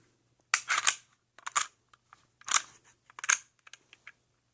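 An HK45C compact pistol is cleared by hand, giving a short run of sharp, close metallic clicks and slide clacks in quick clusters against a quiet background.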